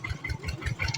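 A farm tractor engine idles close by on a rural road trip in Khammouane, Laos, a steady low rumble with a regular pulsing throb and no talk over it.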